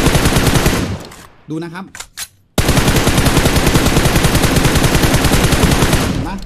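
Sustained automatic gunfire from a PUBG Mobile match, held steady under recoil control, roars loud and continuous, broken briefly by a short pause where someone speaks.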